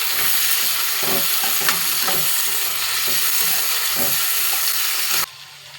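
Tomato and green chillies fry with onion pieces in a pan, a loud, close, continuous sizzle punctuated by stirring scrapes, which cuts off abruptly near the end.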